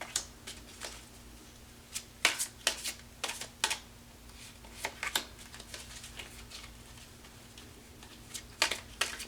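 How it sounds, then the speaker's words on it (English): Tarot and oracle cards are shuffled by hand, giving close, crisp riffling bursts and sharp slaps scattered irregularly over several seconds against a faint steady hum, with no voices. "sometimes I can shuffle and sometimes I can't"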